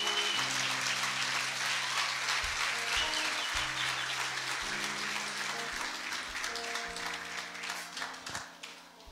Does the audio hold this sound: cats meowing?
no